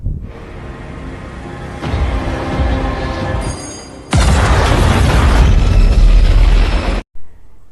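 Mortar fire and explosions in an action scene of the film Bloodshot: rumbling blasts build, then a huge loud boom erupts and roars for several seconds before cutting off, with a brief final burst.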